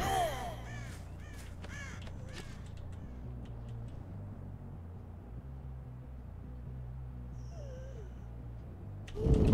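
A crow caws in the game Dead by Daylight: a few sharp caws near the start, then a quiet eerie ambient stretch with a faint squawk, and a louder burst at the very end.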